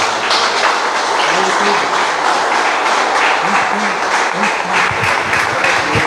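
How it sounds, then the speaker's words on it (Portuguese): A church congregation applauding during a worship service, dense, loud clapping throughout with some voices and faint tonal sounds mixed underneath. "E as palmas louvam ao Senhor."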